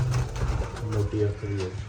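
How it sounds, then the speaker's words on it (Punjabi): Pigeons, including a white-eyed female, coo softly in a loft in a repeated low rumbling rhythm, close by, with someone talking over them. "ਚਿੱਟੀਆਂ ਅੱਖਾਂ ਦੀ ਕਬੂਤਰੀ ਆ ਕਬੂਤਰੀ ਬਹੁਤ ਵਧੀਆ ਉੱਡਦੇ"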